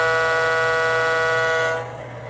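Sampled diesel horn from an American Flyer Alco model locomotive fitted with MTH PS2 sound, a loud, steady multi-tone blast lasting almost two seconds before cutting off to a quieter hum.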